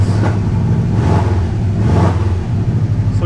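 Subaru STI engine idling steadily just after startup, a loud, close, continuous low rumble with slight swells in revs and no talk.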